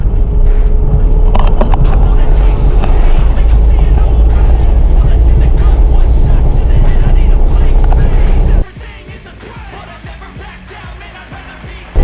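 A Citroën C15 pulls away in first gear up a steep 30-degree slope, its engine a loud, close, steady drone for roughly eight seconds before dropping sharply to a quieter idle rumble.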